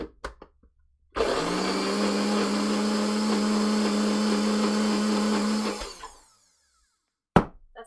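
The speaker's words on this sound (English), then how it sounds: "And now it's time to blend it in the blender" Kitchen blender whirring through chickpea curry ingredients: a few short bumps, then a loud steady motor roar for about five seconds that cuts off abruptly, followed by a brief knock.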